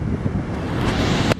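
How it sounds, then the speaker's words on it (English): Wind blows across a beach on a blustery day, a steady loud rushing roar with a faint wash of surf beneath, alone without talk. "it's too windy to do anything on the grill right now"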